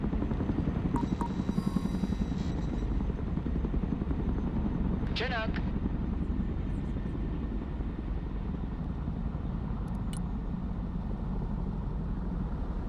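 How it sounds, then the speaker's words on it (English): Cargo helicopter flying in the video game Broken Arrow, a loud continuous rotor thrum and engine drone throughout, with a brief voice line and interface beeps over it. "Let's go and recover it with our helicopter."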